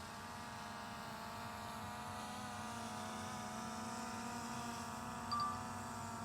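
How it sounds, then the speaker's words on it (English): A DJI Mavic Air 2 drone hovers and circles nearby with a constant, steady propeller whine and hum, medium-faint and even throughout, with no speech. "The drone should be around me so it won't see my face moving, but it's circling around me."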